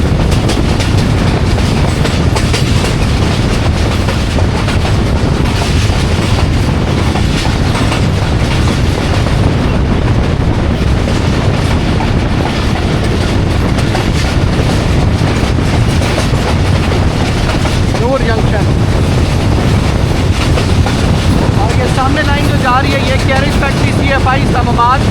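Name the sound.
Jaffar Express passenger train passing through a junction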